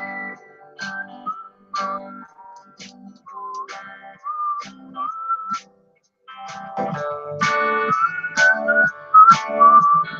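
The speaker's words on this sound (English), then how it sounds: "I hate whistling, but I don't care if it's part of the music" Melodic whistling carries a tune within a piece of music, phrases recurring in short bursts over backing instruments, with a fuller, louder arrangement joining in the second half.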